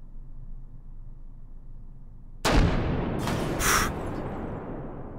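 A single heavy NTW-20 rifle shot in Hot Dogs, Horseshoes and Hand Grenades booms out of a quiet room hum, followed by a long rumbling tail and a brief metallic echo.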